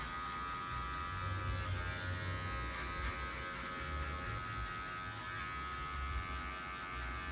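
Electric hair clipper cutting a low fade with a guard, using the full blade, gives a steady close-up buzzing hum that runs unbroken throughout with no talking.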